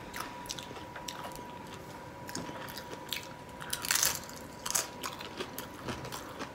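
Close-up crunching and chewing of shrimp nachos made with sweet spicy chili Doritos, with irregular crisp bites and munching over a faint background hum and no talking.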